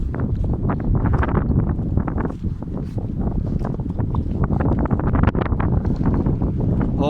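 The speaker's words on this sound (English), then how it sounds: "Wow, that was a good wind gust" Strong wind gusts buffet the microphone in a loud, continuous roar with rustling bursts throughout, during a storm of very strong winds causing damage; no voices are heard.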